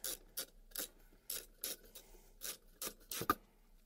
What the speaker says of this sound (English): get my super mega jumbotron wrench over here and just start tightening very gingerly